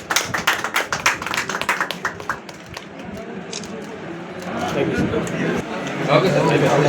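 A crowd applauds at the opening of a property office with a quick burst of claps that fades after a few seconds, while voices talk over it and through the rest.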